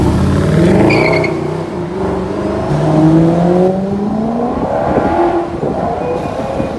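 An Aston Martin DBS Superleggera TAG Heuer Edition sports car accelerates nearby, its engine rising and shifting in pitch through gears with a smooth, loud exhaust note.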